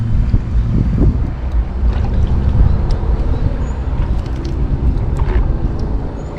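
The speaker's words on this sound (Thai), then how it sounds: "โอ้ ลม" Strong wind gusting outdoors on a cold morning in rural Isan, Thailand, a steady broadband rush with low rumbling buffets against the microphone, continuous and loud throughout with no talking.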